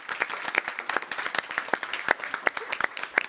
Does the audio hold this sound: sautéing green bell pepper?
no